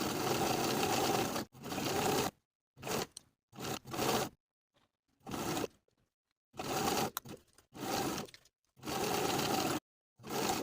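Sewing machine stitching a jacket sleeve seam in rapid bursts, several runs of fast mechanical whirring separated by short silences, close and clear.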